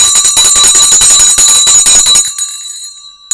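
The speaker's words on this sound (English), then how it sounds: "Nice quick bell." The stock market closing bell rings loudly and rapidly for about two seconds as a fast metallic clanging, then stops abruptly, leaving a brief ringing tail.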